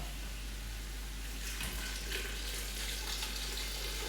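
Water pours steadily into a pot of braising lamb, tomato and carrot soup, a soft continuous splash with a faint sizzle, heard alone at low volume.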